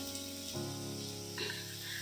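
Food sizzles as it fries in a pan over a lowered gas flame, a steady close crackle with brief louder bursts and no talking.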